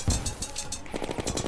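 Mega Shark gun firing rapidly in Terraria, a fast stream of clipped automatic shots in quick succession, loud and close for a brief burst.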